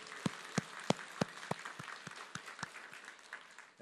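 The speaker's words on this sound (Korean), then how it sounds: "오늘 그 새로 나오신 분들을 위해서 여러분 환영의 박수 한번 보내주시죠" A church congregation gathered for a testimony service gives newcomers a welcoming round of clapping. Sharp, prominent beats rise above a softer layer of scattered claps, then loosen and fade into looser applause.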